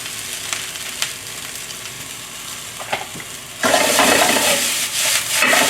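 Noodles and vegetables stir-fried in cooking oil, with a steady sizzle and scraping stirs, quieter at first then louder and denser as the food is tossed, close by.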